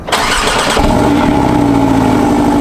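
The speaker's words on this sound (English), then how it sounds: "cold, really cold start for the Porsche Boxster" A Porsche 718 Boxster fires up from cold, a sharp starter crank and loud catch bursting into a high, steady fast-idle roar heard up close with no talk.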